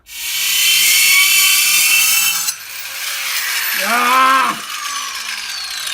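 A metal part is cut with a slot during a garage build of an FPV electronic-warfare device, giving a loud, harsh continuous grinding hiss that shifts pitch midway, with a brief whining squeal near the end.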